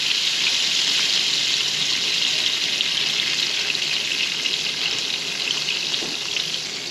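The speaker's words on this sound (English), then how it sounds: "Melt my butter." Two sticks of butter melting in a pan to start a roux for mac and cheese sauce, a loud, steady hissing sizzle that holds close and constant throughout with no talking.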